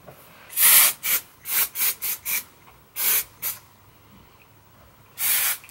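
Kenra dry texturizing hair spray hissing in short repeated bursts, some quick, one longer blast at the end, close and fairly loud with quiet gaps between.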